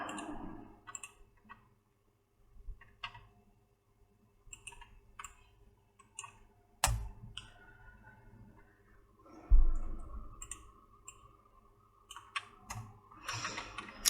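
Sparse, quiet mouse clicks on a computer while editing a paragraph in MS Word, arriving as scattered single and double taps with no talking.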